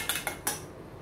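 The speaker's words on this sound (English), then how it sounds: "we now get another spoon and we start to mix" A spoon mixes yogurt into lamb kebab pieces, giving three quick, close metallic clinks against the bowl within about a second, then a soft, quiet scrape.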